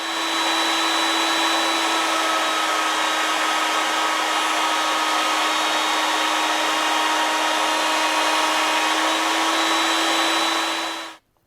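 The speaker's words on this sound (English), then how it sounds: "I'm going to route each edge of this blank block" A router mounted in a router table runs at full speed while routing the edges of a wooden blank, a loud, constant high whine held steady for about eleven seconds before it cuts off abruptly.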